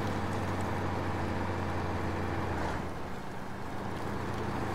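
A heavy truck engine in SnowRunner drones loud and steady, holding a low, rumbling tone throughout with a slight dip partway through.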